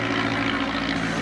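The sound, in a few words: Curtiss Jenny biplane engine, Hispano-Suiza engine, at air show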